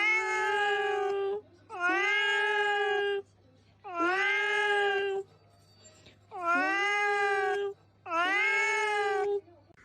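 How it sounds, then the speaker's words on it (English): A ranch cat meows five times in long, drawn-out, whiny calls, each about a second or more, evenly spaced with short pauses, close and loud against a low background hum. "That's the ranch kitty."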